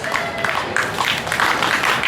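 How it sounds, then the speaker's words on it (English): An audience at a county fair show claps in a dense, steady burst of applause, close and fairly loud, with faint voices mixed into the crowd noise. "Give him another big round of applause."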